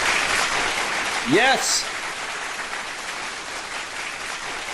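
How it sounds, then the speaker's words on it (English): An applause sound bite played on a live stream, a dense steady crowd clapping throughout, with a short rising vocal whoop in the middle and someone briefly speaking over it. "I'm going to give you a big round of applause"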